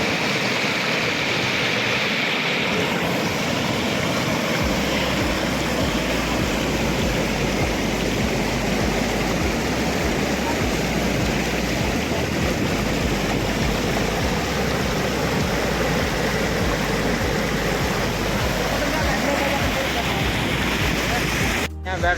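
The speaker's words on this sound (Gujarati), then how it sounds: "પાણીનો અવાજ સાંભળજો, કેટલો મસ્ત આવે છે." River water of the Tapi rushes over a causeway in a loud, steady roar that runs the whole time, with a low rumble underneath and a voice speaking at times.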